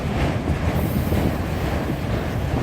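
A long freight train rumbles past at close range, a dense continuous roar of rolling cars and wheel noise with wind buffeting the microphone and no pause across the stretch.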